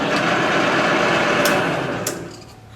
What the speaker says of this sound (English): So at 140 we slowed it down, but we didn't totally stop the machine.